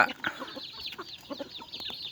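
Native chickens cluck and squawk close by in a repeated, uneven series of short calls at a farm, with no one talking.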